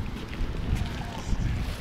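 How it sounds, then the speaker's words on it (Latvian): Strong wind buffets and rumbles in low gusts, a continuous blustery roar with a couple of heavier surges. "Pūš gan šausnīgs vējš."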